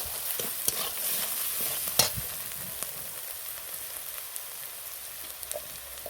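Spices stir-fried in a pan for a raw mango and egg curry, a continuous close sizzle broken by irregular ladle scrapes and taps, with one louder knock early on.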